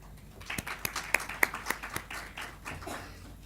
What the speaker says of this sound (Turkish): Sayın Utku Tatar'ı alkışlarınızla davet ediyorum